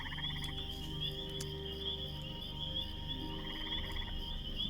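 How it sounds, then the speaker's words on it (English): Crickets and cicadas chirr steadily beside a pool under willow trees in a Lord of the Rings Online game world, a continuous layered insect drone with a high sustained trill and frog-like croaks, faint and unbroken throughout. "crickets and cicadas buzzing in our ears here beside the beautiful pool underneath the willow trees"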